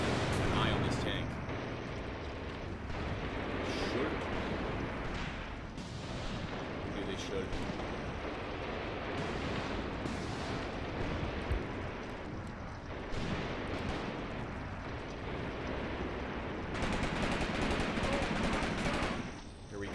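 Heavy artillery barrage in the Graviteam Tactics: Mius Front war game, a dense roll of booming blasts and crackling gunfire that keeps going throughout, with a voice talking over it.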